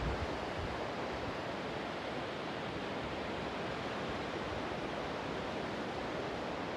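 Steady, broad roar of Baltic sea waves at the Latvian seaside near Liepāja, a continuous surf wash with little variation and no voices.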